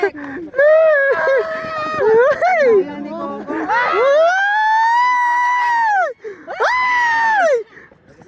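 A group of people at a frisbee bootcamp scrimmage screams and shrieks loudly in long, rising and falling high-pitched bursts, very close and continuous over several seconds.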